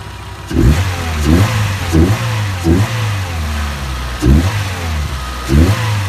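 A car engine pulls while driving, close and loud, rising and falling in repeated revving surges roughly every second as gears and throttle change, with no talking.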